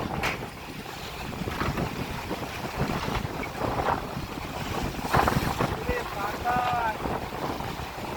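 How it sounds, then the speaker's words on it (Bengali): Strong wind from Cyclone Remal roars across the Baleshwar River at the Sannyasi launch ghat in Morrelganj, with waves washing below; the blustery rush stays loud and continuous, buffeting the microphone, with brief faint voices in the background. "যে পরিমাণে বাতাসের গতি, আবার সেই পরিমাণে কিন্তু ঢেউ।"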